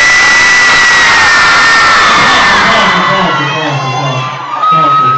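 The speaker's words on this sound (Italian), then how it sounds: "Vuoi sentire gridare solo le ragazze?" A live rap concert crowd at a club, with girls screaming together on cue: a loud, sustained wall of high-pitched shrieks and cheers that gradually thins and fades near the end.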